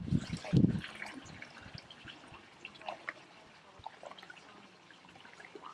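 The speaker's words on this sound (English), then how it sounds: "Let's put some more water in here." Water poured into a jug of powdered alginate mold mix: a brief, loud splashing gush at the start, then a faint trickle and soft drips.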